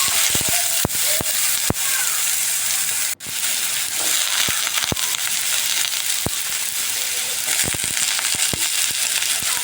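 Onion is stirred and fried with potatoes and a dried chilli in hot oil, producing a steady close sizzle with scraping stirring knocks scattered through it and one brief break.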